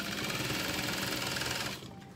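A sewing machine runs steadily, stitching two bag panels together for a satchel, its fast even whirr continuing close and loud before easing off in the final moments.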